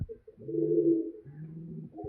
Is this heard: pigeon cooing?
yes